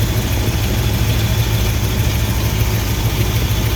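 A 1978 Ford F150 engine idles with a carburetor being tuned, a steady, loud, low rumble with an even hum and no break, heard close up with no voices.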